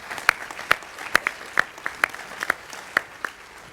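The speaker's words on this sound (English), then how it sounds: "clap for that for sure" A small group claps nearby: sparse, irregular hand claps rather than full applause, with no talking.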